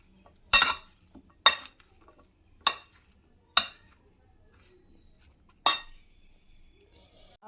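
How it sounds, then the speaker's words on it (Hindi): Metal spoon clinking against a bowl while fruit chaat is mixed, five sharp separate clinks spaced about a second apart with quiet between them. "मिक्स करूंगी इसे।"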